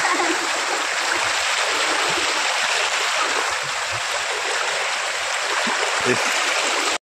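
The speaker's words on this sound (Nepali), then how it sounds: "खोलाको लागि खोलामा जानु पर्दैन गाइस बाटोमै खोला छ आज" Rainwater rushing across a road after heavy cyclone rain in the Dooars, a loud continuous gushing roar with splashy turbulence, near and steady throughout.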